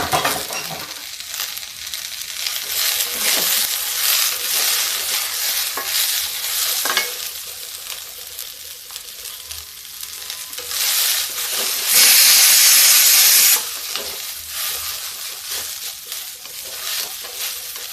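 Green chillies and cluster beans (gwar fali) sizzle steadily in a hot pan and are stirred now and then, a continuous close fry with a brief louder burst of hissing partway through, no voices.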